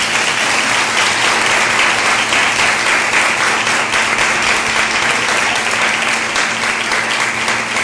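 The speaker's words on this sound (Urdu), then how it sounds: "آئیے یسوع ناصری کے لیے زوردار تالیاں دیں۔" Loud, steady applause from a church congregation during an Urdu sermon, a dense, unbroken wash of clapping that fills the whole stretch without pause.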